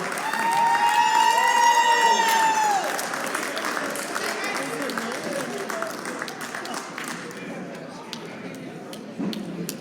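Audience applause and cheering at an awards gala honoring labor advocates, loud clapping with whoops and whistles over the first few seconds, then settling into steadier, somewhat quieter clapping with crowd noise to the end.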